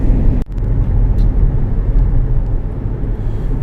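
A Mahindra XUV500 cruises along a highway between Ajmer and Jaipur, heard from inside as a loud, steady roar of road and engine noise with a brief dip early on.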